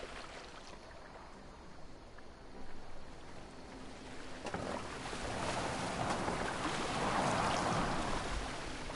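Boat gliding over water in the video game Assassin's Creed Valhalla, a steady broadband wash of water and hull that slowly builds louder over nine seconds, with no voices.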